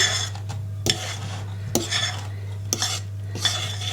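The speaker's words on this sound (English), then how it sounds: "And then you're just going to slowly fold it over, mixing that in" A spoon folds flour into banana bread batter in a bowl, making soft, wet scraping strokes and light clinks about once a second over a steady low hum, close by with no voices.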